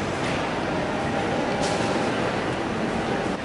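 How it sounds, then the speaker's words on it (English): Train riding toward the KLIA2 airport in Malaysia, a constant loud rumble and roar of the carriage in motion filling the whole stretch without pause, no distinct clacks or voices standing out. "We are now on the train heading to KLIA2"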